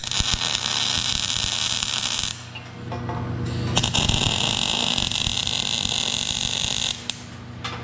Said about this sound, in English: and we get our 2 quick little welds